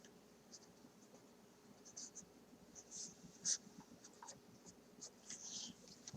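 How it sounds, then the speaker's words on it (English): A pen writing units on paper during a math lesson, producing faint intermittent scratching strokes in short bursts, fairly close and quiet. "So I'm going to write my two units here."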